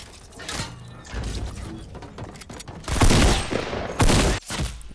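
Gunfire in the Fortnite video game, bursts sprayed at a rock, with rapid crackling shots swelling into louder volleys and heavy impacts, near and loud, no speech during the bursts.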